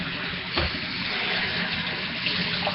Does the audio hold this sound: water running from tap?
yes